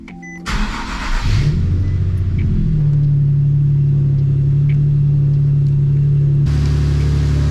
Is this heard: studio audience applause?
no